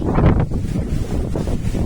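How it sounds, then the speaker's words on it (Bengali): Strong gusting wind on a stormy, rainy day outdoors, loud low rumbling buffeting against the microphone, continuous and close. "ও ভাই, এত বাতাস ভাই।"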